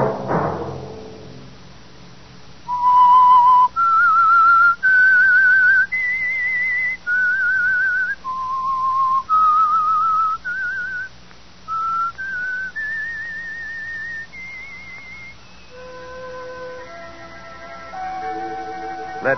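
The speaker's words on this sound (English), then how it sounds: "Let that whistle be your signal for the Whistler." A lone whistler carries the theme of the 1947 radio drama The Whistler, a slow melody of clear sustained notes stepping up and down, with soft accompanying tones entering near the end.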